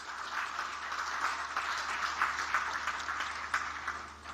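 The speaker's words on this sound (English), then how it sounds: "An acclamation and a round of applause." Audience applause at an ECOWAS 50th anniversary celebration ceremony: a dense, steady round of clapping from a large crowd that holds evenly throughout with no voices over it.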